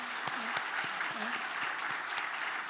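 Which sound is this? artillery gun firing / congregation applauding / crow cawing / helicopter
congregation applauding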